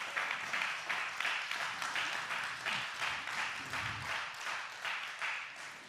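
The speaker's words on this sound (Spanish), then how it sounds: "Siga aplaudiendo. Continue giving Him a hand." A church congregation applauding steadily, a dense wash of many hands clapping that carries on unbroken at a moderate, even level.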